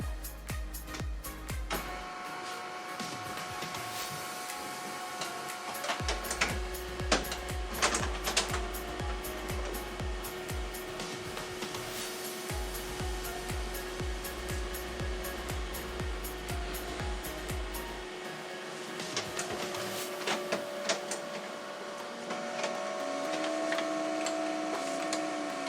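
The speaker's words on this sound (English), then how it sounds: "just send it to the printer and let my LaserJet print it out." An HP LaserJet printer runs through a print job with a continuous mechanical whir, rapid ticking and clicking, and repeated low motor rumbles that start and stop, heard alone at moderate volume.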